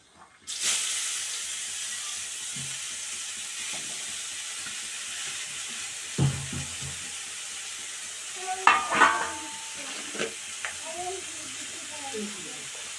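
Chopped ivy gourd with mustard seeds and chillies sizzles steadily in a hot pan, a continuous frying hiss with occasional stirring clatters and brief spoken remarks.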